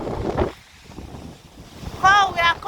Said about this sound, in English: Wow, guys, it's so windy.